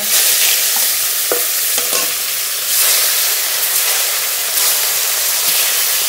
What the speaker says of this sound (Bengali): বাকি মাছ এই তেলেই ভেজে নেব।